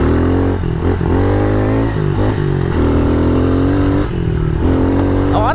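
A pit bike engine revs hard in third gear while riding, a loud, continuous motorcycle drone whose pitch climbs and drops with each throttle change, close and alone with no talk.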